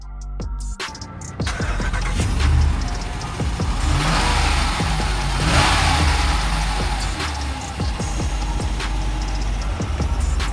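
A 2019 RAM 1500 Rebel truck with a 5.7 HEMI V8 starts up and drives off, its loud engine revving and rumbling close by for about ten seconds with no talk over it.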